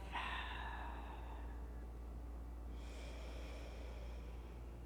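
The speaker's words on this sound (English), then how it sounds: "keeping your lips sealed, exhale out of the nose. Maybe tapping into your Ujjayi breath" Ujjayi breathing during a yoga flow: a slow, breathy exhale through the nose with lips sealed, then a second softer breath a couple of seconds later, close and quiet over a low steady hum.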